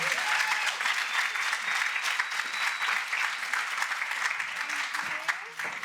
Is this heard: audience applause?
yes